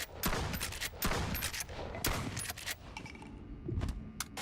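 Mossberg 870 shotgun fired repeatedly in the virtual-reality game Bonelab, loud sharp blasts roughly every second with mechanical clacks and handling thumps between them, no talking.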